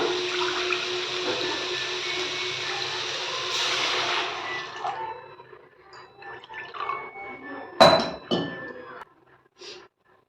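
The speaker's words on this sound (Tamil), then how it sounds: "இப்போது இதில் தண்ணி சேர்த்துக்கலாம்" Steady rush of water pouring into a cooking pot of semolina for kichadi for several seconds, then tapering off into a few splashes and clinks near the end.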